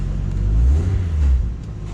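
A Toyota Supra engine rumbles close by, swelling in a low revving surge across the middle before settling back to a steady idle-like drone.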